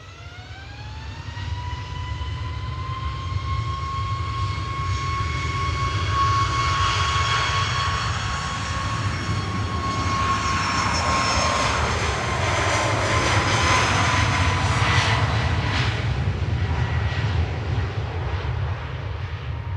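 A Ryanair Boeing 737 Max 8-200 jet climbs away from Manchester Airport, its engine roar swelling to a loud, sustained rumble with a high whine that slowly shifts in pitch as it passes.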